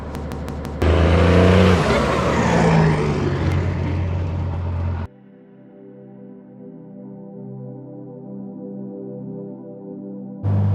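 A Dodge truck with a 12-valve Cummins 6BT diesel drives along, the engine roaring loudly and steadily under acceleration, then dropping to a quieter, even hum while cruising before swelling again at the end.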